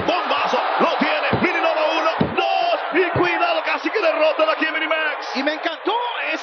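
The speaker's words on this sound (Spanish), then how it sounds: "El público aplaudiendo en grande aquí a los Mini." A lucha libre crowd cheers and applauds loudly throughout a mini wrestlers' match, with whoops and shouts rising and falling, and a commentator talking excitedly over the noise.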